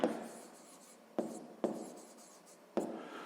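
A pen writes out a math equation by hand in a sixth-grade lesson, making faint, close scratching strokes with four sharp onsets as each new stroke begins.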